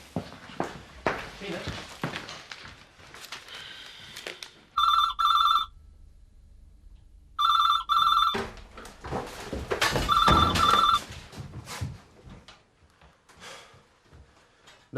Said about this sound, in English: But thanks for ringing, Viv.